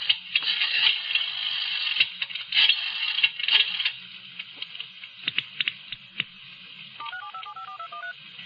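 Tones from a public phone booth telephone being dialed: a quiet run of short beeps with handling clicks and a faint hum, then a rapid burst of dial tones near the end.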